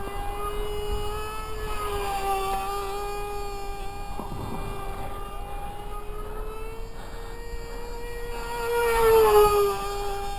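A small RC airplane powered by a converted SH .07 RC car engine with an APC 5x3 propeller flies overhead, its steady high-pitched buzz wavering in pitch and swelling louder near the end as it passes closer.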